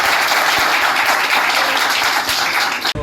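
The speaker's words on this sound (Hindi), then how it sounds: "जोरदार तालियां हो जाए।" Loud, dense applause from photographers at a Digital Photographer Association seminar in Ghaziabad, a continuous close wall of clapping that breaks off abruptly at the end.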